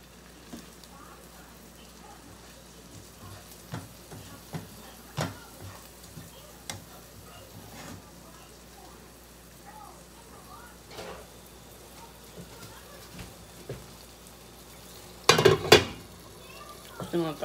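Food cooks in a frying pan with a faint, steady sizzle, broken by scattered clicks and utensil taps and a louder clatter near the end.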